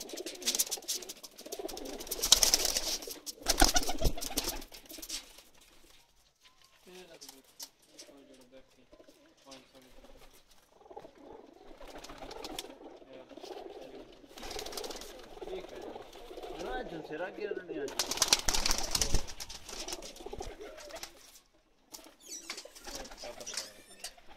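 Pakistani pigeons coo in low, soft phrases through most of the stretch, mixed with bursts of wing flapping and someone talking nearby.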